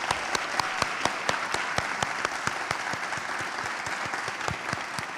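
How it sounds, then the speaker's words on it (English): A crowd at a county citizens academy graduation gives sustained, even applause, with individual claps standing out from a dense patter at moderate distance. "Give yourselves a round of applause."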